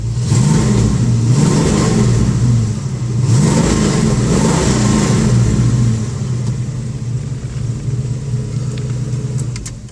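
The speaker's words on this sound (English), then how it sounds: "Give it another rev." The V8 of a 1970 Ford Mustang Mach 1 fastback with MSD ignition is revved close up: two rumbling throttle blips rise and fall, then a longer, sustained rev tapers off into a loud idle.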